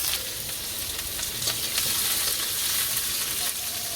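Chopped onion fries in a pan while cooking a chicken curry in a village kitchen, giving a constant, close, bright sizzle with faint stirring scrapes and no voices.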